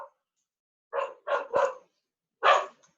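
Several dogs bark in short, sharp bursts close by: three quick barks in a row, a pause, then one more. There is no talk and the room is otherwise quiet.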